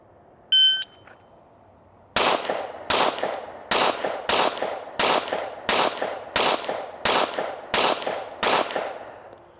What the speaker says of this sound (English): 10 shots. Stand by.